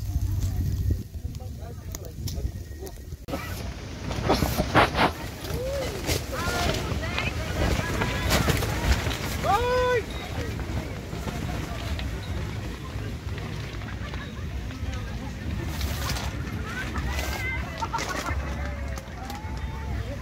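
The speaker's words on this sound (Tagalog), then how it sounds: "Ang lakas ng hangin." Strong gusty wind buffets the microphone in a constant roar at a campsite in Tanay, Rizal, with voices talking and calling out underneath.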